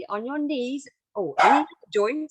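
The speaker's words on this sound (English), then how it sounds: "Sorry about my dogs." Dogs bark in short bursts at close range, overlapping with someone speaking.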